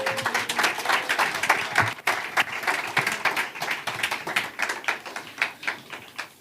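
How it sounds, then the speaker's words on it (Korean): Church congregation at a Seoul Christian youth New Year revival meeting giving a big round of applause to welcome the pastor, steady close hand claps that rise and then thin toward the end. "목사님 나오실 때 목사님을 통해 일하실 성령님 환영하는 마음으로 큰 박수로 맞이하겠습니다"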